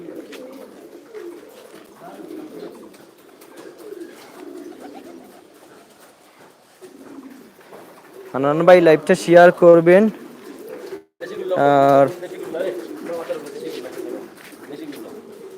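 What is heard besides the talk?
fancy pigeons cooing at a pigeon farm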